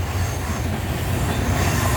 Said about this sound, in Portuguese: Olha o outro trenzão.